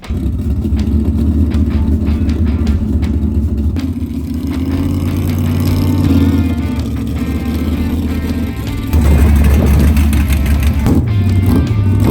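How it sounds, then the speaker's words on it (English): Bishop Performance Motorsports Camaro race car engine at a bracket drag race, a loud continuous rumble that holds steady, then swells louder near the end as it builds revs. "gonna take the Bishop Performance Motorsports Camaro down the track at the Gulf Star TV Cash Harvest Bracket Race"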